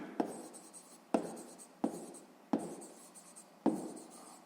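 A pen writing numbers on paper during a sixth-grade maths exercise: five short, sharp strokes, each followed by a fading scratch. They come at a steady pace, close and quiet, with no talking.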